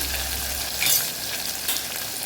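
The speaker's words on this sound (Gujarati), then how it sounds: "ટમેટા સરસ પોચા થાય ત્યાં સુધી આપણે એને સાતળવાનું છે" Tomatoes sauté in hot oil in a pan, giving a close, continuous sizzle with brief swells as they are stirred, no voices.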